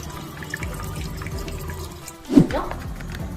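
Water is poured into a pan on a kitchen stove while egg Manchurian is being made, a short splashing burst rising over steady kitchen background noise.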